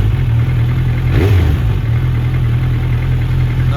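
A motorcycle engine idles steadily after an oxygen sensor delete, a low even thrum close by with a brief rise in pitch partway through, then settling back to a constant idle.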